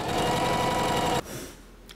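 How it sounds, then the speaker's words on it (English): A Singer Heavy Duty home sewing machine runs at speed, a loud continuous whirring stitch that cuts off abruptly partway through, leaving a quieter room tone with a faint click at the end. "if you're looking for a home machine, the Singer Heavy Duty."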